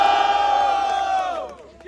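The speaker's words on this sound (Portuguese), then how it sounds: "Barulhos pra quem gosta das rimas de Baobab" A crowd roars and shouts at a student rap battle, loud and sustained at first, then thinning and fading toward the end.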